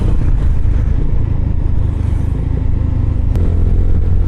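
A vehicle accelerates to overtake on a road during evening travel, its engine droning loudly and steadily with a dense rumble of road and wind noise throughout.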